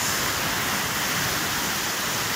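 A deep, strong river current swollen by floodwater rushes loudly and steadily nearby, a continuous broad roar with no pauses.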